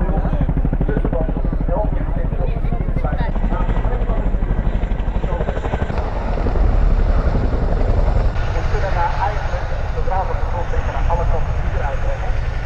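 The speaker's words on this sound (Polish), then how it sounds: "Wielkie kobyły te helikoptery z podwójnymi śmigłami." Large twin-rotor military helicopters landing nearby, a loud continuous heavy rotor thump and engine roar that fills the whole stretch, steady and close with slight swells in intensity.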